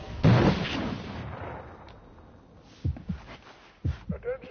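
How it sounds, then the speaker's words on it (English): Bombing in a video game: a heavy, muffled explosion right at the start that decays into a long rumble, followed by several softer thumping impacts, with voices speaking over them. "They're bombing us again!"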